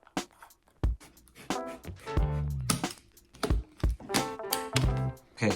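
Scissors snip through a paper logbook to fit it into a container, giving a series of close, crisp cuts and paper rustles in an uneven rhythm.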